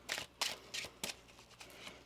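Tarot cards are shuffled by hand in quick, papery riffling bursts, about five or six crisp flutters in a row that fade toward the end, heard up close in a quiet room with no speech.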